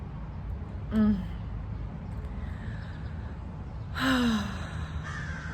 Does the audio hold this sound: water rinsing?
no